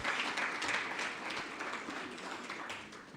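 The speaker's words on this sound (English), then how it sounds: "Another big round of applause for Felix." An audience at a sustainable finance curriculum launch event gives a dense burst of applause that fades gradually over a few seconds, with no voices over it.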